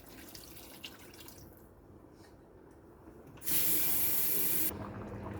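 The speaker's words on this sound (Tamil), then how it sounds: "இந்த ஸ்டேஜில் நமக்கு குழம்புக்கு தேவையான தண்ணி ஊற்றிப்போம்." Water poured into a simmering cauliflower gravy, starting as a soft trickle and then becoming a loud, steady splashing pour for about a second before stopping abruptly.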